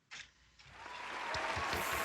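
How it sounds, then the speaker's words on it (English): Applause sound effect track on a podcast, starting with a sharp burst and then swelling into sustained clapping and cheering that grows steadily louder toward the end. "Where's my applause track?"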